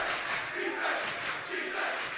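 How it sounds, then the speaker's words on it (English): Home crowd at a state playoff high school basketball game between Pequannock and Elmwood Park chanting defense, a loud rhythmic swell of many voices filling the gym, rising and falling in repeated phrases. "A defense chant going up from the home crowd"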